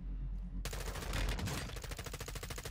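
Automatic M4A1 rifle fire in Call of Duty Warzone 2 erupts suddenly after a quiet moment, a loud close burst that settles into rapid, evenly spaced shots.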